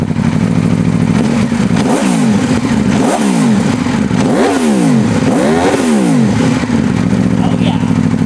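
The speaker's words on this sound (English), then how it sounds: "here's what a motorcycle engine symphony sounds like." A 2015 Aprilia RSV4 motorcycle engine revs hard in a run of rising and falling sweeps, several sharp blips climbing and dropping in pitch over a loud, continuous mechanical roar close by.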